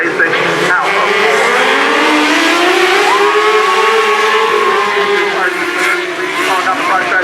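Race cars at Gulf Coast Speedway under green flag: a loud, continuous engine roar with pitch swelling and falling as the pack accelerates out of turn four, and a voice audible over it.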